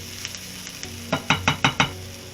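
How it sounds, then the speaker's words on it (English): Onions sizzling as they caramelize in a pan for corned beef hash: a soft hiss under a quick run of five spatula scrapes, close and crisp. "our onions have a good head start on caramelizing"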